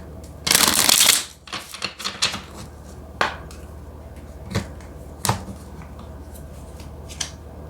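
Tarot cards get a quick riffle shuffle, a dense burst of fluttering, followed by several separate soft card taps and slaps close by, with no speech.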